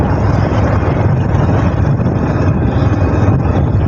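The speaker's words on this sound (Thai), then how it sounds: "ลมพัด" Wind blows hard outdoors beside a rice field, a loud, constant low rumble buffeting the microphone with no voices heard.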